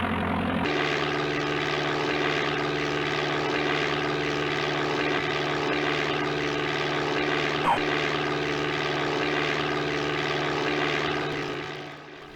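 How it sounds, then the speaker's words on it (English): A Cessna 182 Skylane in Microsoft Flight Simulator takes off with its throttle up: a loud, steady, droning propeller engine holds at one level throughout, then fades slightly at the very end. "We're going to fly the default Cessna 182 Skylane here, of course, and just as we do in modern Flight Simulator, start the runway, parking brake off and throttle up."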